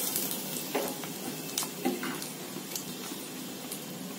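Soft, steady sizzling of fenugreek seeds, whole dried red chillies and a bay leaf frying in hot oil, with a few faint clinks and stirring sounds close by.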